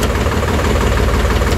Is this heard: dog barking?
no